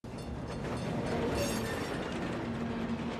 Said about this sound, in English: We do take trains.